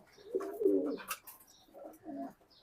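A male racing pigeon gives a short, close, soft coo in two low throaty phrases, heard on its own with no voices.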